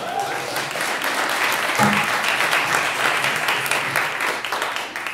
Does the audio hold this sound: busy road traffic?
no